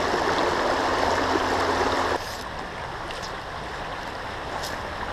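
A swift trout creek rushes steadily and loudly nearby, then drops to a softer, continuous babble.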